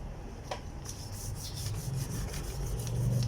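A yellowed car headlight is rubbed by hand with a polishing pad, giving steady close scrubbing strokes with a rough, rasping texture and no voices.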